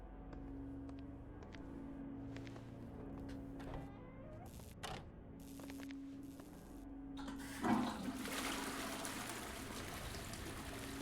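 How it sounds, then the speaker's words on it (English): A toilet is flushed in the video game Silent Hill Downpour, a sudden rushing gush of water that rises late and keeps running steadily to the end, loud and close. "I thought when it said use, he was gonna use the toilet, not flush it."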